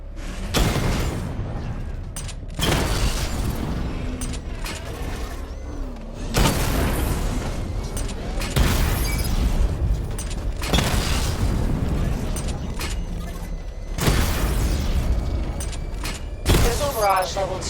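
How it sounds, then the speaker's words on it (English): Repeated heavy booming blasts from a missile barrage in Batman: Arkham Knight, loud bursts arriving in waves with mechanical whirs between them. "Charge up missile barrage to level 2 and destroy 4 active targets to complete diagnostic test"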